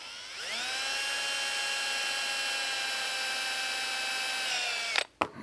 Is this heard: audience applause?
no